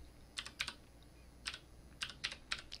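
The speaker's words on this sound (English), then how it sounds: "we do that by typing in the select command" Keys are typed on a Commodore Amiga computer keyboard in short bursts of quick clicks with pauses between them, close and quiet in a still room.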